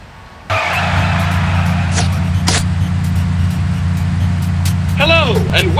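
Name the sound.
augmented reality car driving and skidding in Sam & Max video game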